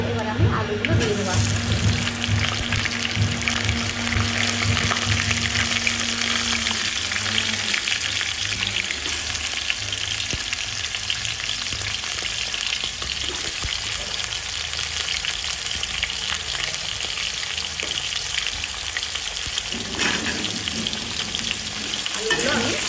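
Potatoes fry in hot oil with bay leaf and cumin seeds, a loud, continuous sizzle with stirring scrapes that carries on steadily for the whole stretch.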